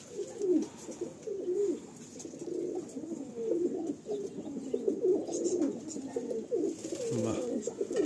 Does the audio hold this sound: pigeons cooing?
yes